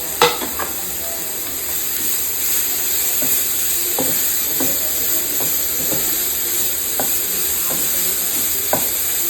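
Grated carrot roasts in a pan for carrot halwa: an even, continuous hiss of frying runs throughout, punctuated by regular soft spatula knocks and scrapes roughly every second, with no voices.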